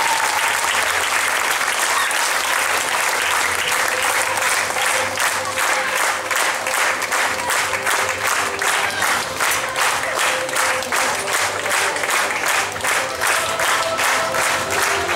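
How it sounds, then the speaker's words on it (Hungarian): A large audience gives a long round of applause for the backstage dressers at a stage show, a thick continuous roar of clapping that settles into a steady, rhythmic, unified beat as it goes on. "kérek szépen egy hatalmas tapsot az öltöztetőinknek, Enikőnek és Fanninak, lányok."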